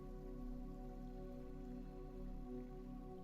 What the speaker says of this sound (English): The rain falls into the grass.